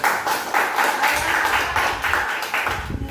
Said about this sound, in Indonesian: Beri aplaus kepada teman.